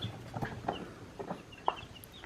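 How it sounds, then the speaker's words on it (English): Several meat chickens cluck nearby on a small farm in short, irregular bursts, a few soft peeps mixed in. "We got more chickens."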